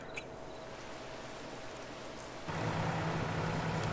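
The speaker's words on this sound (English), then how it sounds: "Yep, it's raining." Rain falling on a farm in Farming Simulator 22, a steady soft hiss that swells noticeably louder and heavier partway through, with no voices.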